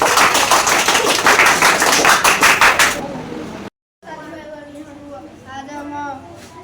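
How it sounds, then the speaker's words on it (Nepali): Classroom applause for students, a burst of many hands clapping loudly and densely for about three seconds, then cutting off into a brief silence before a student begins talking. "ल यिनीहरूको लागि ताली बजाइदियो।"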